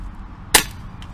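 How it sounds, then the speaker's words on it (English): A single sharp air rifle shot fired through an RTI assisted valve, a brief close crack standing out over a quiet background, followed by a faint click. "Let's take a shot at that pressure"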